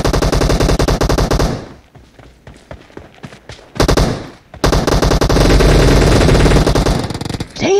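Loud bursts of automatic weapon fire in a multiplayer team deathmatch shooter, a sustained chattering stream that drops away into scattered single shots, then returns as a heavy roaring barrage.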